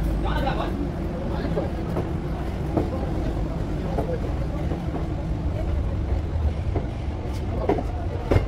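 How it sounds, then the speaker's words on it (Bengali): A special pilgrimage train rolls along after leaving Asansol station, with a continuous low rumble and rhythmic rattling from inside the carriage and voices talking over it. "আমাদের ট্রেনও আসানসোল স্টেশন ছেড়ে দিয়েছে"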